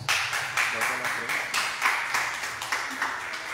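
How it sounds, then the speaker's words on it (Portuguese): A church congregation claps for Jesus in joyful worship, rapid rhythmic clapping in a steady repeating pulse that fills the room, loud and continuous from start to finish. "Vamos receber o Senhor Deus com as palmas bem alegres para Jesus, irmãos"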